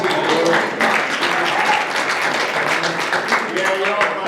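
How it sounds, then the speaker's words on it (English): Audience clapping at a board working meeting as a new manager is introduced, a dense steady patter of many hands filling the room with talk mixed in. "you're all clapping now"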